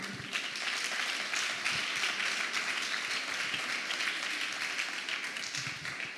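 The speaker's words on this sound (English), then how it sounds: "Can we have another round of applause for Lok?" An audience at a TED-Ed student talks event applauds, a steady, sustained wash of many hands clapping throughout with no break.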